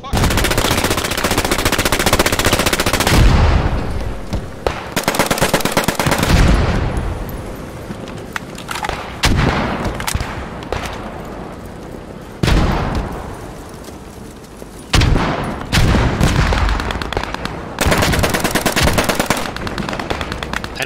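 Machine guns fire in repeated loud bursts during a Post Scriptum battle, each lasting a few seconds and separated by brief lulls.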